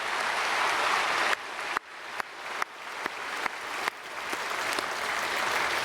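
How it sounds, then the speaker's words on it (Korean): A church congregation at a Sunday worship service applauds to welcome newcomers, a dense burst of clapping from many hands that swells, breaks into several short surges, and carries on steadily. "우리 크게 박수로 환영하겠습니다"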